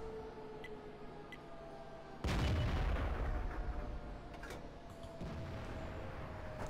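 A loud, heavy boom from an FV304 self-propelled artillery gun firing in the World of Tanks game, sudden and booming, then decaying over a few seconds amid a steady background hum and a later thud.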